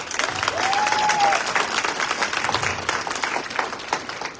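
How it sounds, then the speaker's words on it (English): A crowd at an evening awards gala applauds the presenting sponsors with loud, dense clapping. A short whistle rises early on, and the applause slowly thins toward the end. "So let's give them a round of applause."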